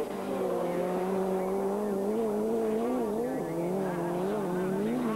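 Martin Schanche's Ford Escort race car at full throttle around Lydden Hill rallycross circuit, a steady loud engine drone with rising and falling pitch through gear changes, continuous throughout.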